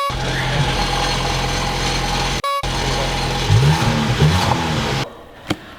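A car with a blown IS20 turbo revs up loudly close by, its engine droning steadily with a few rising surges, briefly cut off once before fading at the end.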